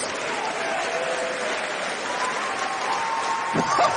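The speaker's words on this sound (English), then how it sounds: "Just listen to the crowd here!" A wrestling crowd roars and applauds after a super kick, a dense, sustained wall of cheering and clapping that swells slightly near the end, with faint voices in the mix.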